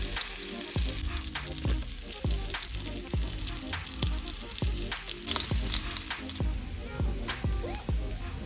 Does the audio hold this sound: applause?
no